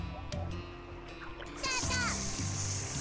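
A water pistol firing in the cartoon artillery game Worms Revolution, a bright hissing, splashing spray that starts partway through and continues, under a cartoonish character voice and light game tones.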